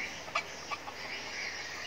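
Roosters on a chicken farm of around thirty birds crow in the early morning, faint and distant calls rising a few times over a steady background hiss.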